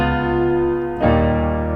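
A backdoor two-five chord progression plays on a sustained, harmonically rich keyboard, one held chord changing to the next about halfway through, with no voices.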